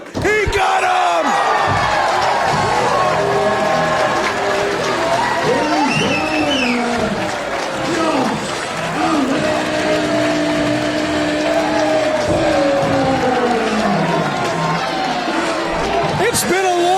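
A wrestling arena crowd roars and cheers for Josh Alexander after a moonsault pin at an A1 Wrestling show, a loud sustained wall of shouting and whistles with a commentator talking over it.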